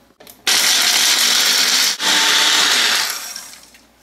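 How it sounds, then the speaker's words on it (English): A kitchen blender grinds cashew nuts into powder, its loud, steady motor whine starting abruptly, dipping briefly once, then winding down at the end, with no talking over it. "So first I am going to grind the cashew nuts into powder."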